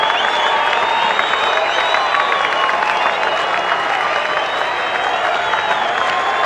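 A cricket crowd at the Origin of the Ashes match in 1995 applauds and cheers steadily in a dense, continuous wash of clapping, heard from a broadcast distance.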